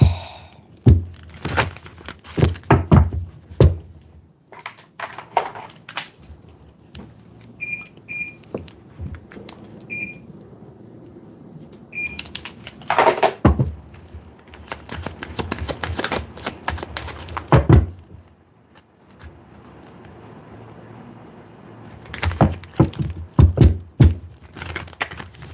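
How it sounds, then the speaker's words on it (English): Tarot cards shuffled in bursts of brisk riffling and slapping, with quieter handling pauses between, close and fairly loud, no talk. "Let's really give these cards a good shuffle out here."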